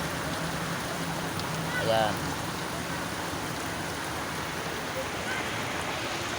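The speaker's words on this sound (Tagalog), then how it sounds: "Yan ang kahirapan ng ulan." Heavy rain pours down steadily outdoors as a dense, even hiss, with a voice briefly audible in the middle of the downpour.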